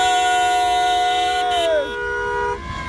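Several car horns honk in long sustained overlapping tones at a busy French motorway toll booth, loud and close, with one horn's pitch sliding down before the blare thins out.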